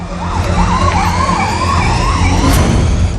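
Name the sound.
police jeep siren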